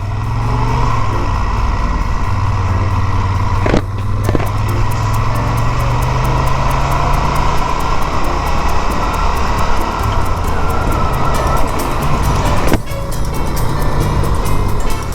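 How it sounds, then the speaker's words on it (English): A 2016 Moto Guzzi Eldorado motorcycle engine runs steadily nearby in a loud, continuous drone, with two brief dips in level along the way. "welcome to the 2016 Moto Guzzi Eldorado."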